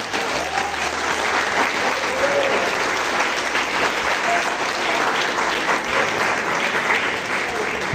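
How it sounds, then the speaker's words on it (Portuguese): A church congregation applauds together during an evening service, steady and dense clapping filling the space without a break for the full stretch. "nós demos uma salva de palmas para o nosso amigo Jesus Cristo"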